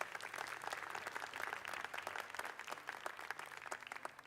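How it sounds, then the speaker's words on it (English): An audience at a school TEDx youth event applauds the student musicians after a performance, a steady, dense round of clapping that carries evenly throughout at moderate distance. "Can we have a round of applause for the musicians at Raffles World Academy?"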